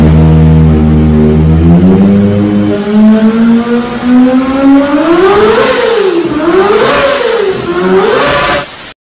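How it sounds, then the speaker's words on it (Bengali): A Kawasaki Ninja ZX-25R 250cc inline four-cylinder engine idles low, then revs up into a high-pitched wail, swinging through several rising and falling revs, loud and close, then cuts off abruptly. "এই বাইকটির ইনলাইন 4 সিলিন্ডার ইঞ্জিনের সাউন্ড।"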